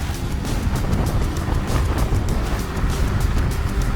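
A Nanrobot D6+ electric scooter runs at full acceleration into a headwind, mostly heard as loud, steady rushing wind buffeting across the ride, with no voices.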